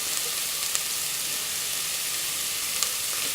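Small shallots fry in a pan for a mutton curry, a dense, even, bright sizzle that holds steady and close, with a couple of faint pops and no talking.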